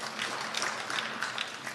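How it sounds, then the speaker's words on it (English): Brief, faint applause from a workshop audience at a commercial contractor conference, a light patter of scattered claps lasting under two seconds with no talk over it. "Can we get a round of applause for Dave for showing up for the workshop"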